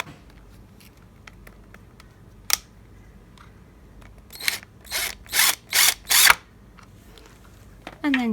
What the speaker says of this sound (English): And now I'm just countersinking so that the screw lies flat.